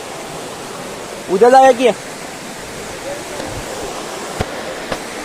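An overflowing village stream rushes in a continuous broad roar, with a brief voice speaking briefly over the water near the start.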